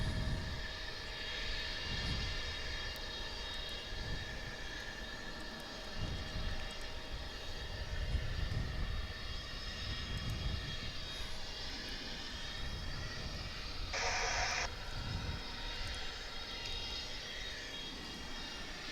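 An American Airlines jet, flight 304, departs DFW, its engine roar a steady, moderately loud broadband rumble lasting throughout, with a brief higher-pitched burst partway through and no voices.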